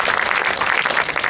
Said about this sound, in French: je vous demande d'applaudir en